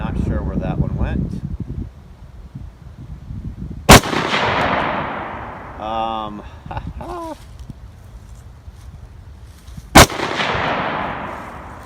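An AR rifle chambered in .223 Wylde fires two sharp, loud shots about six seconds apart, each followed by a long echoing tail, with outdoor ambience and someone talking between the shots.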